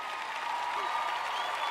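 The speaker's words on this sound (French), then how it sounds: "Vous avez applaudi, c'est bien." Audience applause during a French-language sermon, a steady dense wash of clapping that holds at an even level throughout, with no voices over it.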